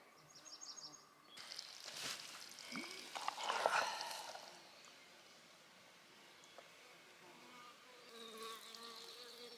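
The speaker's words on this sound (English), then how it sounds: "It was cool seeing the bees hanging around that area, getting their fill of water as well." Bees buzz faintly around a water source in a high-altitude meadow on the Appalachian Trail, drifting closer and farther in soft passes, with a few distant bird chirps in an otherwise quiet outdoor setting.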